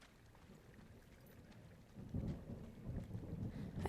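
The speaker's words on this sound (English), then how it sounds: "great storm, actually." A thunderstorm in the video game Firewatch, with soft rain hiss and a deep rolling rumble of thunder that swells midway and stays heavy to the end, with no talking.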